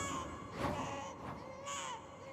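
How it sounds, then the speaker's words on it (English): A baby's faint, distressed cry, heard in a few thin wavering wails with no talk over it. "I could hear a faint baby cry."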